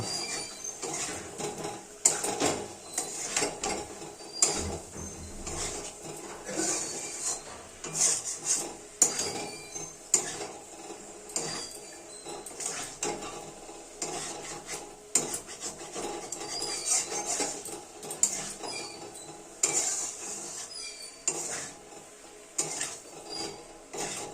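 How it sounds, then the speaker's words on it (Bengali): A spoon scrapes and clatters repeatedly against a pan while potatoes and green peas are stirred together, a continuous run of metallic rubbing and knocks close by, with no voices. "মটরশুঁটিগুলো আলুর সাথে ভালো করে মাখামাখি করে নেব"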